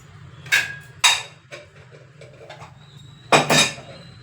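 A lid set over a pot of sprouted green gram makes a few sharp metallic clanks and clinks, two early knocks and a louder double clatter near the end, with faint handling noise in between.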